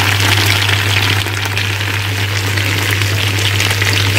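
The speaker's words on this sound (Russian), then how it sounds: "Шкварчит, пахнет вовсю." Potatoes fry in rendered pork lard with small pieces of salo in a pan, a loud close continuous sizzle and crackle over a steady low hum.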